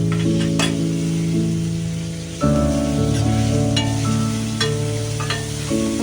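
Tomatoes sizzle and sauté in a hot pan alongside chopped onions, a steady frying hiss broken by soft stirring clinks and spatula scrapes, close and moderately loud, with a low tonal hum running underneath.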